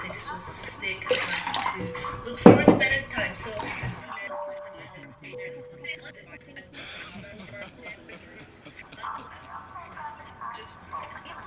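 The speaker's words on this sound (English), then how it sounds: "Okay, I need to get cold water." Cold water runs from a tap in a steady wash, with dishes clinking nearby and a person talking over it.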